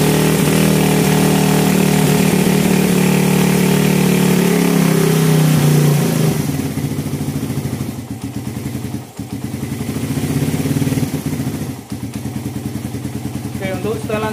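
A motorcycle engine idles after an idle-speed adjustment, with a leaking exhaust. It runs loud and steady at first, then settles into a lower, uneven putter with brief dips.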